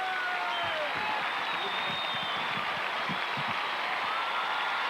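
A large stadium crowd applauds Bob Hope at an Olympic opening ceremony with a steady wash of clapping and cheering, some louder claps standing out, continuous across the stretch.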